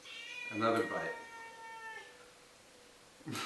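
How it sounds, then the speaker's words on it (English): A pet cat in a kitchen gives a drawn-out meow close by, then a short second cry a couple of seconds later, with a person speaking briefly nearby. "That's my cat."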